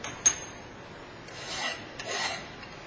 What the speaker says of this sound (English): So I need to deburr.